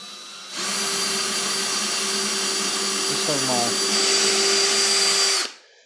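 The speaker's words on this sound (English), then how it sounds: "I'm going to start by drilling my first hole in the center" A steady high-pitched power drill whines continuously for several seconds, close by, drilling a hole in the center of a deer antler, with a brief lower grinding change partway through before it stops.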